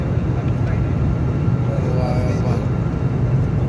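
Constant heavy roar inside an Air India airliner cabin during a bumpy, shaking flight, loud low-pitched engine and air rush with a little muffled voice activity under it.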